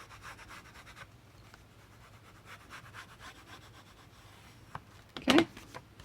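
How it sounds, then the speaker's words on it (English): A paper box being burnished by hand, faint repeated rubbing strokes, with a brief louder scrape or handling bump near the end. "Burnish really well."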